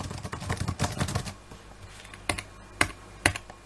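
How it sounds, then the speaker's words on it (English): Laptop keyboard keys typed in a quick irregular burst for about a second, followed by a few isolated, sharper key taps spaced apart, close to the microphone with no talking. "I'll just type anything I want."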